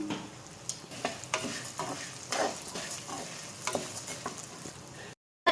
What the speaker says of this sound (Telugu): ఇప్పుడు శనగపప్పు ఉరద్దాలు అండ్ ధనియాలు కూడా బాగా వేగాలి